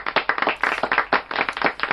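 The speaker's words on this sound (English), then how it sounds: "Little round of applause" A small round of clapping from a few people in a radio studio, brisk and close, with dense overlapping hand claps over two seconds and no talk.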